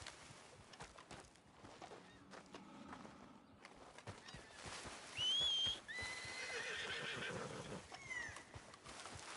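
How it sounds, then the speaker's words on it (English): In the video game Red Dead Redemption 2, a horse whinnies loudly in a shrill, wavering cry, mixed with hooves clopping and shuffling nearby. "Just admiring your horse there."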